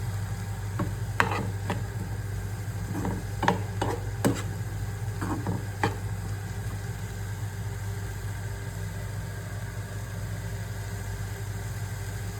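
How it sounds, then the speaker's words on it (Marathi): Sprouted green moong sizzles gently in a small amount of oil, with a low steady frying hiss, several spatula scrapes and clicks in the first half, then quieter continuous sizzling. "आता त्याच्यामध्ये नुसती फ्राय करणार."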